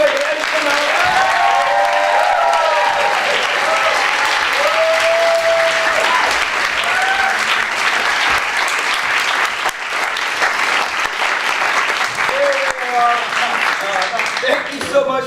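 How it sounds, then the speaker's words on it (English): Audience at an improv festival show in Winnipeg applauds the players in a loud, sustained round of clapping and cheering that lasts throughout, with voices calling out over it. "give a big last round of applause to all of our players tonight"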